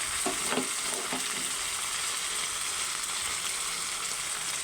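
Onions, tomato, ginger-garlic paste and spices fry steadily in a pan for a chicken fry dish, a continuous close sizzle with a few light stirring scrapes near the start.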